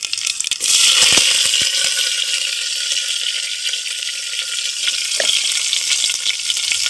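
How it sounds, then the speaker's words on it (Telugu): Thinly sliced onion pieces and curry leaves fry in hot oil with tempering spices, making a loud, continuous close-up sizzle with a couple of faint scraping taps. "ఎర్రగడ్డ కొద్దిగా దూరగా వచ్చిందాక వేయించుకున్నాం"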